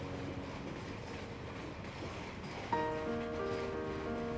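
A train crosses the bridge over the Kwai River on Thailand's Death Railway, a steady far rumble of wheels on track with tonal metallic ringing that swells in partway through, with no voices.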